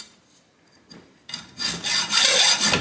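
A bolt from a Craftsman 10-inch table saw is shortened by hand with no angle grinder, quiet at first, then a steadily louder rasping scrape of back-and-forth cutting strokes close by.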